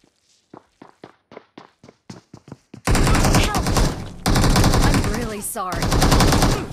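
Bursts of machine gun fire in a BGMI battle, opening with a run of spaced single footstep-like taps before loud, sustained automatic fire that rolls on for several seconds, with brief pauses between long bursts.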